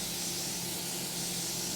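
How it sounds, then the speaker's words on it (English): Morphe setting spray misted onto a face in one continuous close hiss lasting nearly two seconds, steady and alone with no talking. "I'm actually going to spray my face real quick with some Morphe setting"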